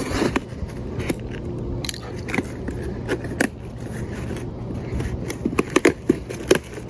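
A blade slices open a cardboard shipping box holding a live banana plant, scattered close crackles, scrapes and sharp snaps of cardboard and tape, growing denser toward the end.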